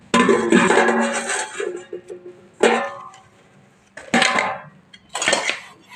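Jaggery being stirred into a laddoo mixture in a metal pan: scraping and clinking of a spoon against the pan in several bursts of varying loudness, with pauses between strokes and no talk.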